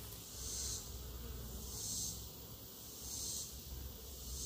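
Carolinian honey bees hum around an open hive, a faint continuous buzzing that swells and fades in slow waves as insects pass near the microphone.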